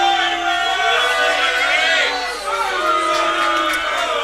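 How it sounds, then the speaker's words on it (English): A noisy crowd chatters and calls out at a pool match in a men's teams final, a dense, loud hubbub that carries on steadily, with voices shouting within it. "The crowd is noisy tonight, people."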